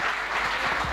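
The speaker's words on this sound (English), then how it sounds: "Big round of applause for Yogesh Sasne, Sanjay Kumar Bele, Sanjay" An audience at a bank's foundation day event applauds, a dense, steady wash of many hands clapping at full volume for the whole second, with no voices.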